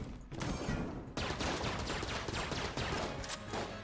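Rapid automatic fire from a Tommy gun in Enter the Gungeon, a dense, continuous rattle of shots that breaks off briefly near the start and then carries on steadily, moderately loud, with no talk over it.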